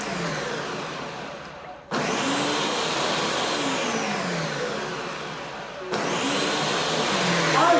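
A blender grinds a green smoothie with a loud, whining motor that stops briefly, then restarts twice, its pitch sliding as the blades load and free up.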